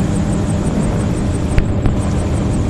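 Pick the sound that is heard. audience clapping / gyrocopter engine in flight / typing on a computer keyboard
gyrocopter engine in flight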